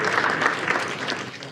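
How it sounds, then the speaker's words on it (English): An audience gives applause for event sponsors at a Walk a Mile in My Shoes charity walk, a dense, steady burst of clapping from a crowd, close and loud. "Give them a round of applause."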